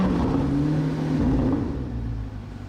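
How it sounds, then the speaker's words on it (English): A deep, smooth flat-plane crank V8 drone from a 2025 Chevrolet Corvette C8 ZR1, held steady, with the pitch lifting and settling as the revs rise and then ease off. No voices. "This massive and massively cool flat plane crank V8. It sounds special."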